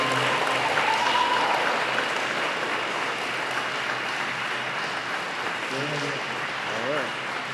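Steady applause from an event audience at a school district celebration, a dense even wash of clapping that holds for several seconds, with a few faint voices rising near the end.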